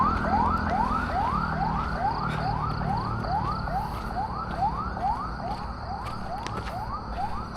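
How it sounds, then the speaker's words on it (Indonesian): An ambulance siren wails in a steady repeating rising sweep, loud and sustained throughout as it passes close by, with traffic rumble underneath. "Bentar, ada ambulans."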